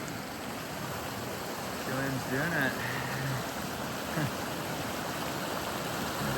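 Browns Creek in the Colorado mountains, crossed around 1 in the morning: a steady, rushing wash of flowing water, fairly faint, with a few brief spoken words over it.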